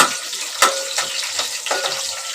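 Masala ingredients dry-roasting in a pan for Kolambi (prawns) masala give a steady sizzle, with several distinct scraping stir strokes close by and no talk.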